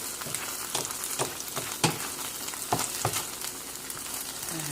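Scallions being mixed in a frying pan on a lowered stove, a soft sizzle broken by several clear scraping strokes of a utensil against the pan at irregular intervals.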